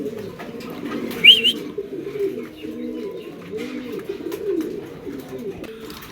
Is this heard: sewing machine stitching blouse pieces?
no